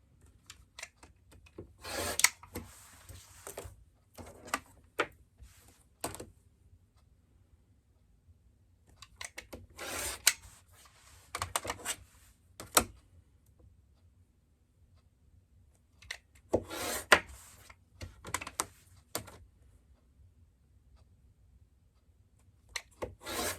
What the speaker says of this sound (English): And then trim the batting down to the size that we need.